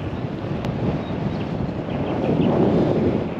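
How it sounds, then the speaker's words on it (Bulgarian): Wind blows outdoors near Radomir, Bulgaria, as a steady broadband rush with low microphone buffeting, fairly loud and continuous with no voices. "Малко духа вятър"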